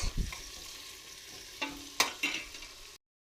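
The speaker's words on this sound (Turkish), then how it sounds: "Yaklaşık 3 dakika e, kerevizle patatesimizi de kavurduk." Celery and potatoes sautéing in olive oil in a pan, a soft steady sizzle with a few brief scraping stirs and clicks near the end before it cuts to silence.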